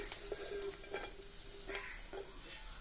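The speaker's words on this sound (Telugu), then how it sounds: "ఇలా వేయించుకోవాలండి" Semolina for rava kesari frying in ghee in a pan, a steady soft sizzle with occasional light scrapes and stirring clicks close by.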